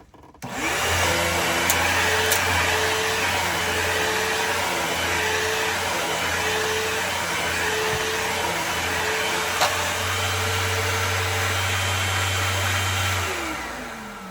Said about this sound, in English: Let's vacuum it up and see how it does.